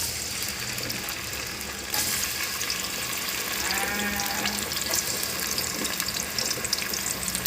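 Two large, coarsely cut onions fry in a pan for mutton curry with a continuous loud sizzle that thickens after the first couple of seconds. Faint background sounds sit underneath, and no one speaks.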